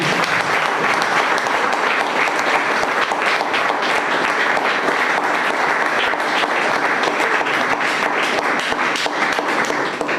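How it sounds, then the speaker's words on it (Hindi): A church congregation at a worship service applauds with dense, sustained clapping that stays loud and even for about ten seconds. "क्या सेवक भाई की सराहना के लिए ताली बजाएंगे।"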